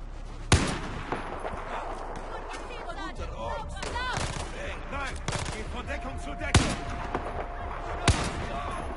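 Sniper rifle shots in Battlefield 4 crack out sharply a few times, around three loud single reports spaced seconds apart over busy game noise and background battle sounds.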